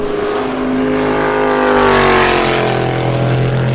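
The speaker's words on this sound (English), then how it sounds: "That was definitely a Corvette." A Corvette race car roars past on a circuit, its loud engine note rising and bending in pitch as it sweeps by close, steady and alone without talk.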